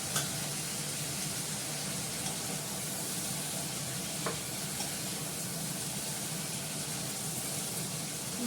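Cauliflower fries with green chili in a pan, a steady, even hiss of oil heard close and alone, with only a faint tap or two breaking the constant sizzle.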